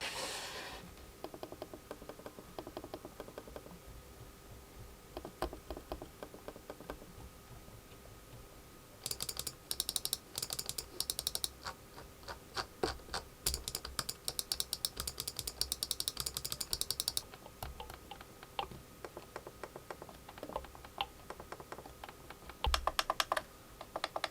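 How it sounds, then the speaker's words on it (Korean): A Logitech Lift mouse gives very faint, muffled button clicks and soft ratcheting wheel scrolls, heard close in quiet surroundings as scattered taps and short rapid runs of ticks. "로지텍 리프트는 무소음 클릭과 저소음 휠 스크롤이 가능한데요"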